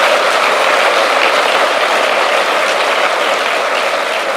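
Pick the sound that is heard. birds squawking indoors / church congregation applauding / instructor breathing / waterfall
church congregation applauding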